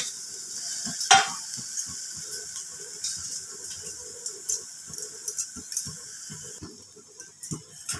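Boiled, deboned katla fish belly, seasoned with salt and turmeric, goes into a hot pan for a fish kochuri filling, giving a steady sizzle with repeated scraping stirs and a sharp clatter early on.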